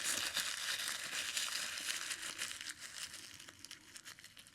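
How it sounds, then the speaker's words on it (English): A sheet of paper is crumpled up by hand, a close, continuous crinkling and rustling that fades slightly toward the end, with no voices. "I'm gonna take another piece of paper and crumble it up."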